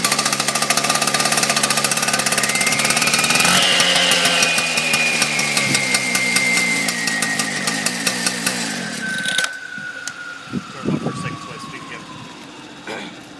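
A K12 cut-off saw engine starting and then running at high, steady revs, loud and close, slowly dropping in pitch before cutting out abruptly, followed by faint clunks.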